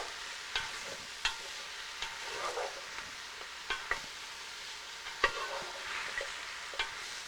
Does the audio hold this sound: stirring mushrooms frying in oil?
yes